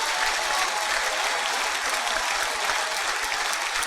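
Steady, dense applause from a large church congregation fills the whole stretch, loud and continuous without a break.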